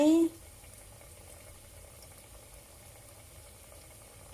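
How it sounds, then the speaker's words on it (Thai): Salmon fish cakes sizzle in hot oil with a low, steady bubbling hiss that runs on quietly after a woman's brief speech. "เอาทอดมันปลาเราลงไปทอดเลย"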